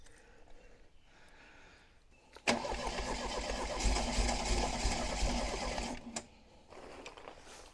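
A Triumph TR7 parts car engine cranks over with a fast, rhythmic whirring starter churn, then catches briefly and sputters loudly for several seconds before dying back down, with no talking over it.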